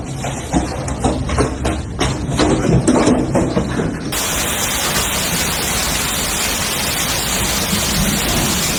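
A massive hailstorm pounding Texas, loud dense drumming of hailstones hitting surfaces, at first with distinct heavy impacts, then a continuous roaring wash of noise, close and unbroken.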